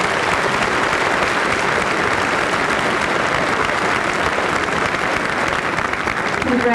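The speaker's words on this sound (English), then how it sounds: "Let's give these students a big round of applause." Audience at a Michigan high school senior assembly for the class of 2002 applauds award-winning students, a dense, steady wash of clapping from a large crowd that runs unbroken and loud throughout.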